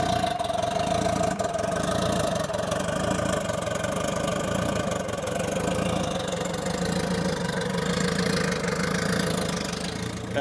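A turbocharged Honda S2000 drag car engine running on race gas idles roughly and close, its lumpy, uneven rumble running continuously with a faint whine on top.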